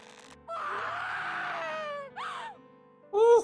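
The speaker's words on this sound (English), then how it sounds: "Now that is a gut-wrenching scream." A woman's anguished scream in the visual novel Grisaia Chronos Rebellion, a loud sustained wail that breaks and falls, followed by shorter cries and a sharp final shriek over quiet game music.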